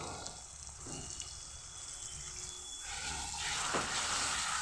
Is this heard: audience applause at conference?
no